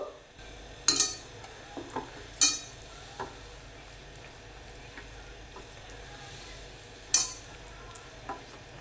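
Spice marinade for fried fish, with garam masala and lemon juice, mixed in a bowl: sporadic sharp clinks and scrapes of a spoon against the bowl over quiet room background.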